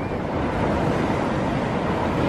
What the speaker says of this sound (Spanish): en esa orilla que ustedes ven ahí es donde se forman las olas fuertes